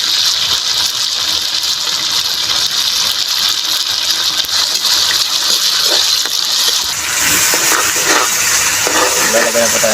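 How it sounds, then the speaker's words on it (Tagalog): Water runs into a cooking pot while black bean fish is being made, a loud steady gushing splash lasting several seconds against faint kitchen background noise. "Lalagay na po tayo ng konting tubig."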